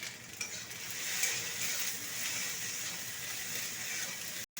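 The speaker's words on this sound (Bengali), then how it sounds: "ভেন্ডিটা ভাজা ভাজা হয়ে আসছে" Okra fries in a pan after being salted, making a soft, continuous low sizzle with light stirring, quiet and close, ending in a sudden brief cut.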